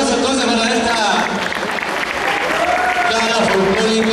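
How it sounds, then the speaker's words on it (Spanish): A crowd applauds loudly and steadily at a folk ballet gala, sustained clapping with voices and music tones running beneath it. "Más fuerte el aplauso entonces para esta"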